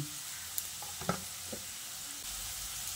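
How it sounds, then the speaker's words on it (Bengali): Potatoes fry in oil in a pan over a medium gas flame, giving a steady, quiet sizzle with a few soft stirring clinks and no talk. "এবার গ্যাসের ফ্লেমটাকে মিডিয়ামে রেখে আলুগুলোকে খুব ভালো করে ভেজে নিতে হবে।"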